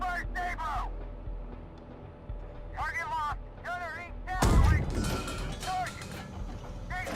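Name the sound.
tank gunfire from the Gunner, HEAT, PC video game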